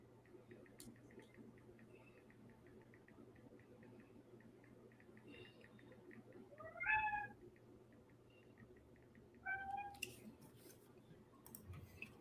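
A domestic cat meows twice somewhere nearby, a rising, bending call around seven seconds and a shorter one near ten, each standing out over a steady low indoor hum with faint clicks.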